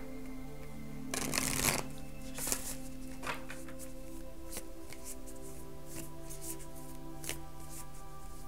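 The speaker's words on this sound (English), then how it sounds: "Just gonna take a minute and shuffle." A deck of cards being shuffled, with a loud riffle near the start followed by softer scattered card sounds over a steady background hum.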